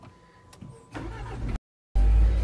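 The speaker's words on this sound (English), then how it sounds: "That's like the gear shifter knob when you turn the car on." A car is started, a faint click followed by the engine cranking and catching into a loud, close idle, briefly cut out, then returning with a heavy low rumble.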